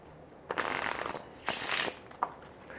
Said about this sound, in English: you can have the spectator shuffle these cards up all they want